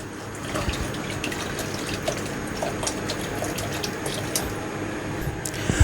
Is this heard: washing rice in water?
yes